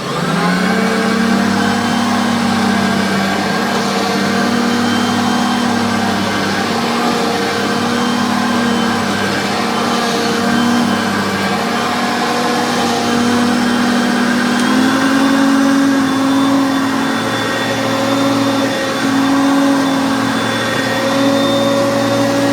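A Hoover Concept 2 vacuum cleaner with a two-speed motor runs loud and close, a steady whining drone that steps up in pitch partway through as the speed changes, with no talking.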